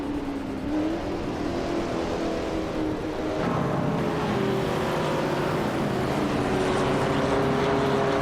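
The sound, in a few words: racing cars in video game race, 1970 Ford Mustang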